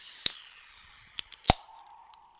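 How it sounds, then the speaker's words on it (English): A can of Samuel Adams Nitro beer is opened with a sharp metallic snap, a few quick clicks and a pop, followed by a soft fizzing hiss that trails off, close by and otherwise quiet. "was me opening one of Samuel Adams' new Nitro beers"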